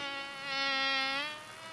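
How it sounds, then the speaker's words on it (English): A cartoon buzzing bee sound effect from a children's show, a steady nasal drone that swells louder midway and then eases off, heard alone without talk. "I can hear another noise. Fozzie bee"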